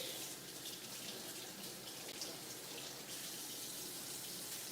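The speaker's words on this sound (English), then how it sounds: "Gonna rinse my fish." Tap water runs steadily into a kitchen sink as fish fillets (flounder) are rinsed, a continuous close hiss and splash with no pauses and no talking.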